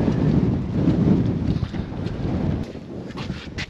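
Strong gusts of wind on a hilltop in Edale, Peak District, buffet loudly and roar across the microphone in uneven surges, with no talking.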